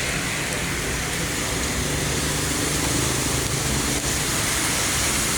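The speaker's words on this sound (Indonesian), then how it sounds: "Diguyur hujan, hujannya lebat." Heavy rain falls steadily over a roadside in Cisarua in front of a hotel, a dense, even broadband hiss that stays loud and unbroken throughout, with faint traffic blended in.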